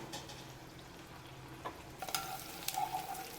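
Dosa batter cooks on a nonstick pan with a soft, steady sizzle and faint crackle, close and quiet, with a few brief scraping touches near the end.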